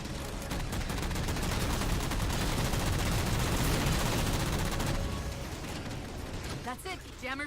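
Sustained rapid gunfire from the video game Halo 4 on Xbox, dense and continuous for most of the stretch before thinning out, with a brief voice near the end.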